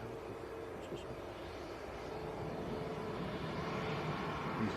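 EasyJet airliner passing at Manchester Airport, a steady broadband jet engine roar that swells slightly, held continuously through the whole stretch with faint background chatter.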